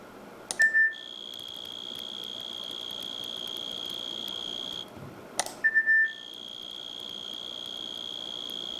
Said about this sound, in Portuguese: Quando um canto combinado de grilo é tocado em um alto-falante